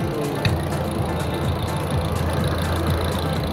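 A car engine with a leaking valve cover idles with a steady low rumble, close by and continuous, with no talking.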